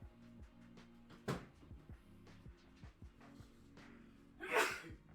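A single person sneezes indoors during a drawing livestream, with a sharp burst near the end over quiet background music, preceded by an earlier shorter breathy sound.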